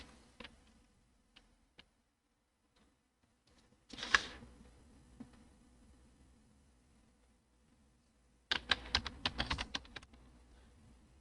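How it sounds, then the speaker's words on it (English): Typing on a computer keyboard, with scattered single key clicks, then a short burst of keystrokes and later a quicker run of close, crisp taps in a quiet room. "Next, key in confidential in all caps and press enter."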